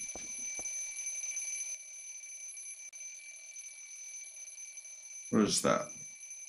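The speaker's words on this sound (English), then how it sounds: "Oh, it's the alarm." An alarm rings with a continuous high electronic tone that holds steady throughout, while a person briefly speaks over it near the end.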